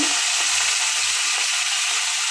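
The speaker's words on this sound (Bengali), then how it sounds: "পাঁচফোড়ন দিলাম একটু শুকনো লঙ্কা দিলাম" Panch phoron and dried red chilli frying in hot oil for a Bengali fish curry with Malabar spinach, a steady loud broadband sizzle that holds without a break, with no voices over it.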